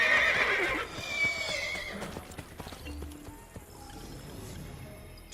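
A horse in Assassin's Creed Brotherhood gives a loud, close whinny at the start, then hooves clip-clop against a busy game ambience.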